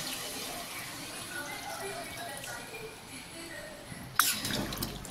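Mutton stock water is poured into a cooking pot, heard as a brief, close splashing pour near the end. Before it, a voice talks quietly over faint kitchen background.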